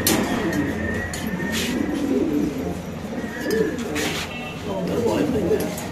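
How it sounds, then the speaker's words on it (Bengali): White Mundian pigeons coo continuously at close range in a noisy pigeon market, their low, rolling calls overlapping over a dense background murmur. "দর্শক দেখেন মাশাআল্লাহ, এই যে একদম বাম্পার কোয়ালিটির কবুতর ভাই।"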